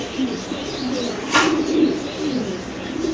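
Pigeons coo softly while a brief sharp flutter or clack cuts through the middle, all set against a low room hum with no talk.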